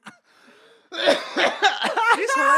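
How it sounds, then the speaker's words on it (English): A cough bursts out mid-laughter, followed by a run of loud, close, broken laughing sounds after a quieter opening moment. "I was laughing when I coughed"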